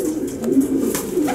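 A racing pigeon coos softly and close, a short low throaty call with a couple of faint pulses, no voices over it.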